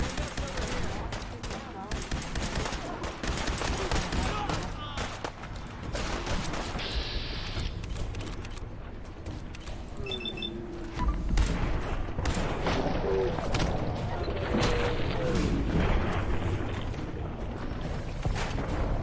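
A sustained volley of gunfire in the video game Questing: dense, rapid shots and booms layered over one another, loud and continuous, with shouting voices mixed in.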